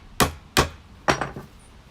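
Hammer pounding a wooden plank or truss down on a roof: four sharp, close strikes with the last two quicker and lighter, each ringing briefly and then fading. No one speaks.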